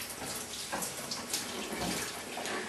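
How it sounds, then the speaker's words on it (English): Water from a tap runs steadily and splashes as a spoon is rinsed of sugar crystals at a fudge shop, a continuous close hiss with no speech. "We just put it under the tap to make sure there's no sugar crystals on this."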